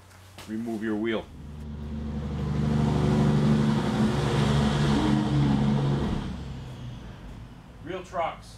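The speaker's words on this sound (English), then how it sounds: "The sound of real trucks." A real truck engine runs in first gear, a loud steady rumble rising and holding for several seconds before fading, with voices talking briefly before and after it.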